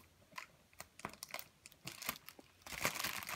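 A plastic wrapper crinkles and rustles in irregular bursts as a package is unwrapped up close, the crackling growing busier and louder toward the end.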